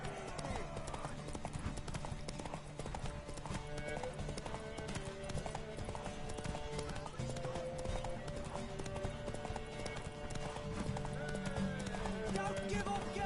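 Horse hooves clip-clop steadily in a video game quest, a continuous rhythmic trot running under a busy music and effects bed, with occasional game voices.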